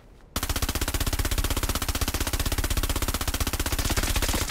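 A Fortnite weapon that fires candy corn instead of bullets lets out a sustained, rapid-fire automatic burst, loud and evenly paced for about four seconds after a short quiet start.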